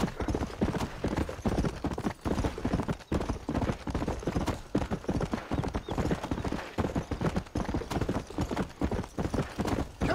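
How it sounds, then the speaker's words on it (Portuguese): Horse hooves pound in a steady, fast galloping rhythm in the Red Dead Redemption video game on Xbox One, loud and continuous with occasional whinnies. "Vamos cavalgar pra lá, galera."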